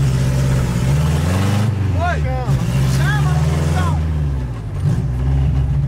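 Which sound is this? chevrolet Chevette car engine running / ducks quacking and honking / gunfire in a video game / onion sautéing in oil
chevrolet Chevette car engine running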